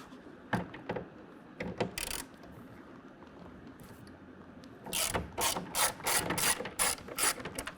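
A hand ratchet clicks rapidly as it loosens Torx bolts on a Revolver X4TS tonneau cover fitted to a 2022 Toyota Tundra, with an early run of clicks and then a louder sustained burst, close and without talk.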